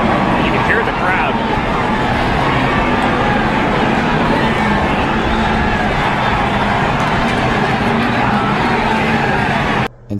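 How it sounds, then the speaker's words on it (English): Loud, dense crowd roar at a NASCAR race in the closing laps, a continuous wall of cheering mixed with distant engine noise for about ten seconds, cutting off abruptly at the end. "You can hear the crowd."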